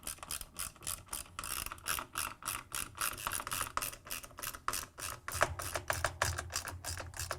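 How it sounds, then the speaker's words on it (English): A 10 mm socket wrench ratchets rapidly while tightening the counterweight bolts on an LG/Kenmore washer tub, making close, steady clicking bursts throughout. "Then, using the 10 mm socket wrench,"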